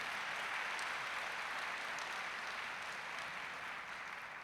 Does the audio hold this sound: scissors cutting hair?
no